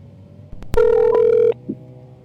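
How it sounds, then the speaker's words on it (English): A single loud electronic phone ring tone sounds for under a second, followed by a short beep and clicks of a call connecting. "Let me go ahead and get Deuce on the line"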